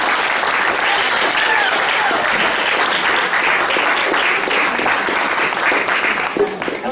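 Sustained applause from an audience at a live storytelling show welcoming a performer back to the stage, dense steady clapping filling the whole stretch with some voices mixed in.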